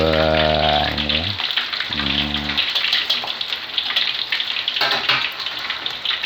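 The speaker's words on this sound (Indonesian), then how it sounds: "yang goreng ikan itu memang harus sabar ya" Catfish frying in a pan of hot oil, a steady broadband sizzle and crackle running throughout, with a person speaking briefly at the start and again near the middle.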